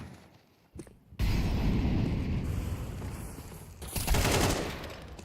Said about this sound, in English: Craig's gonna eat that flashbang slightly.